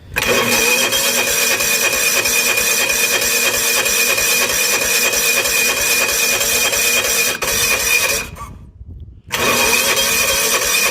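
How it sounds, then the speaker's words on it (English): A John Deere tractor's starter, powered only by a battery charger without a battery, cranks steadily with a thin whine for about eight seconds, cuts out into near silence, then starts cranking again. "it is running off of just the battery charger and not a battery, so the starter's making a little bit of a whine noise"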